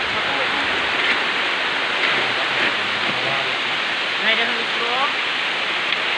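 Heavy rain pours down steadily during copra work. The dense, loud hiss holds throughout, and faint muffled voices sit under the downpour.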